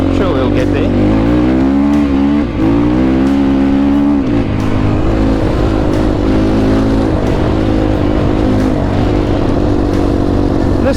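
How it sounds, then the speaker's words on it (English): A MotoPro 300 Chinese full-size motorcycle engine running loud and close, its pitch rising and falling as the rider accelerates and shifts, with a steady droning hum throughout. "This is a real full-size Chinese bike."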